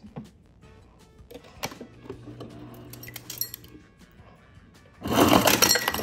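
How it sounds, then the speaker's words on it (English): Ice cubes drop from a Samsung refrigerator's dispenser, scattered hard clinks and clatters building into a loud rattling burst of cubes tumbling into a container at the end. "So, ayan yung cube ice."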